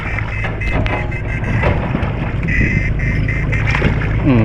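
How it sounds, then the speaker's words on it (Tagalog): A large flock of birds, including ducks, calls around a fishing boat on the water, loud overlapping quacks and cries with the boat's low rumble underneath. "Maraming ibon."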